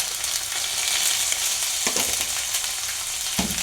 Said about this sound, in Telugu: పసుపు వేసేసుకున్నాను కదా, కాలీఫ్లవర్ ముక్కలు వేసేసుకుంటున్నాను.